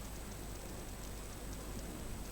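Early morning rain shower in Ahmedabad, a steady, even hiss of falling rain with no breaks, fairly faint and heard alone.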